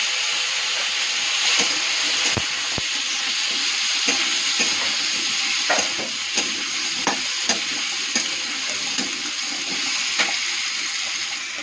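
Potatoes and tomatoes fry loudly in a pan with a steady sizzle, and stirring clicks and scrapes come every second or so.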